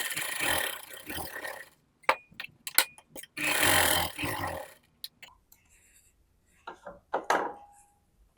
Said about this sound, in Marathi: इथून सरळ आपल्याला दोन्ही साईडला शिलाई मारून घ्यायची